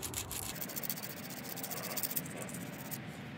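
A wooden knife is sanded by hand, a continuous close, quiet rasping scrape that runs steadily for a few seconds before easing off near the end.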